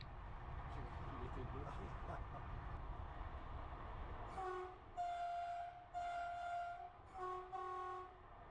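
Background noise gives way to a series of loud, sustained train horn blasts, several long tones with short gaps between them.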